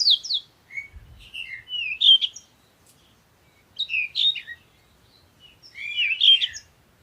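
Birds chirp in a forest in three bright, clear bursts of twittering separated by short quiet gaps, close and alone.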